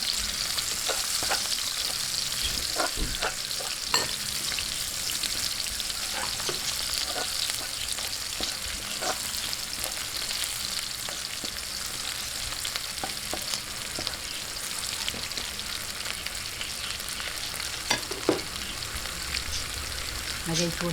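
Onions sautéing in garlic oil for pansit tinapa, a steady close sizzle with occasional scrapes and clicks of stirring throughout, no talking.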